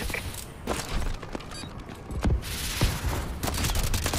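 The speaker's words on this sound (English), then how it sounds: "Enemy bombing run overhead." Bombing run explosions overhead in Call of Duty: Advanced Warfare, a string of heavy blasts and gunfire bursts rumbling through a few seconds of combat noise, with sharp impacts standing out near the middle and end.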